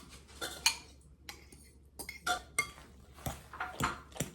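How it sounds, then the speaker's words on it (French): Potatoes with fish being mashed in a bowl as eggs go in for Caribbean accras, making irregular clinks and scrapes of a utensil against the bowl plus soft mushy thuds, close and with no talk. "avec le poisson et les pommes de terre, écrasez les pommes de terre et ajoutez les œufs"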